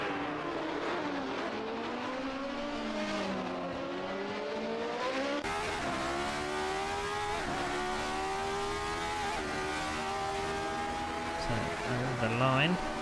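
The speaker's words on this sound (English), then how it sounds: "you can hear the reverberation of the engine" Formula V8 race car (1979 championship series, racing at Mont-Tremblant) engine sustained and loud at high revs, harmonic engine note shifting as it passes through corners, with a commentator talking over it throughout.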